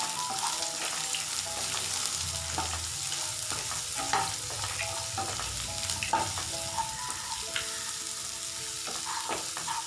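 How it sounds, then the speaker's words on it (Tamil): Small shallot onions sautéing in a pan for sundakai vatha kuzhambu, a continuous bright sizzle broken by repeated scraping stirs of a spoon, close and steady, without speech. "வெங்காயம் நல்லா வதக்கிக்கோங்க."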